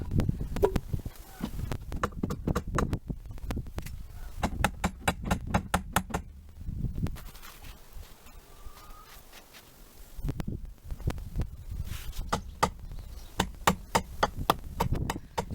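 A two-kilogram iron hammer repeatedly strikes a bent steel reaction rod from a VAZ 2107 in quick bursts of sharp metallic blows, with short pauses between runs of strikes.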